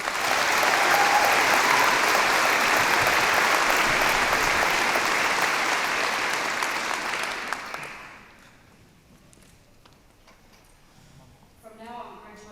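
Loud, dense audience applause at a University of Otago graduation ceremony fills the first eight seconds, then drops sharply to a quiet hall with faint rustling and a voice starting at the end.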